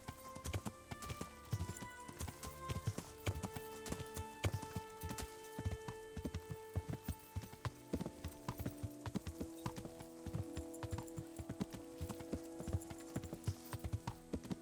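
Rhythmic clip-clop of a horse's hooves while riding in Kingdom Come: Deliverance, a steady trotting beat running throughout over quiet game music, fairly close and clear.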